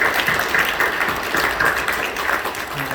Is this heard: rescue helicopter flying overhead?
no